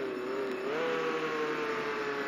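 A car engine in a video game drones steadily at constant revs and then climbs slightly in pitch, loud and continuous with no talk over it.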